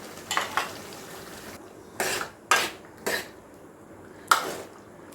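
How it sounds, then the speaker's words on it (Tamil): A handful of short scraping, rattling bursts as chickpeas are tipped and stirred into a metal pan of channa masala, with brief quiet gaps between them. "இப்போ கொண்டக்கடலை சேர்க்கலாம்."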